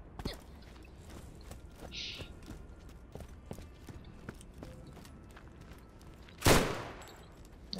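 Sporadic gunfire in Borderlands, scattered single shots ticking irregularly at low level, then one loud close burst near the end.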